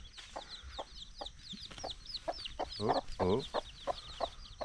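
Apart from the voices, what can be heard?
little chicks cheeping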